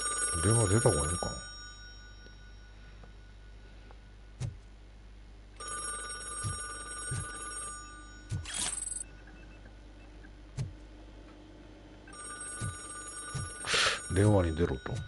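A telephone rings repeatedly in the RoboCop video game in repeated bursts of bright electronic trilling separated by pauses, with someone talking over parts of it.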